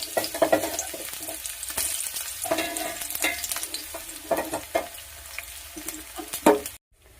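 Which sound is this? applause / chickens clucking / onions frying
onions frying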